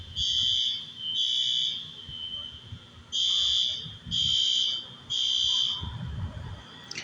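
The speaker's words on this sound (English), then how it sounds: "Somebody simply pulled the fire alarm." A building fire alarm sounds in a loud, repeating pattern of shrill electronic tones, each lasting close to a second with short gaps between them, over a low background rumble and no talking.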